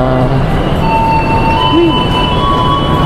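Railway sounds at Tugu station in Yogyakarta: a loud, steady rumble of a train with a brief wheel squeal and tonal hum, continuous and close throughout.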